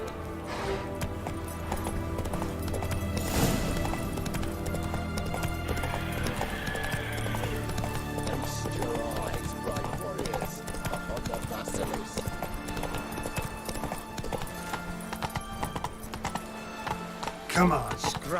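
Roach, Geralt's horse in The Witcher 3, gallops with a steady, rapid clip-clop of hooves throughout, set under game music and in-game voices talking.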